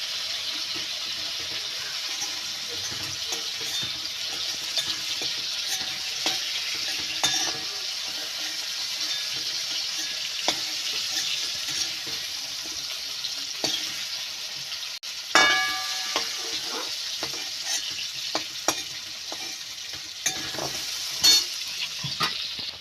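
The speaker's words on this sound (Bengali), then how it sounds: "হলুদ গুঁড়ো, লবণ আর একটু ভালো করে ভেজে নেব আলুগুলো।" Potatoes fry in oil with turmeric powder and salt. A steady bright sizzle runs throughout, broken by repeated clicks and scrapes of a spatula stirring in the pan close by.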